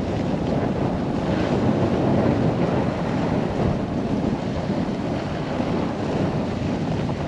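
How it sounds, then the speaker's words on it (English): Strong wind gusts buffet the microphone at Brighton Ski Resort among the trees, a dense, continuous roar that stays loud and unbroken throughout with no talk. "It is windy, sticky."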